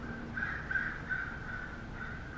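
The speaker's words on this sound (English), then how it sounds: "A bird is yapping out there." A crow-like bird caws repeatedly outside an apartment window, several harsh calls in a loose rhythm, distant and muffled against a quiet indoor background.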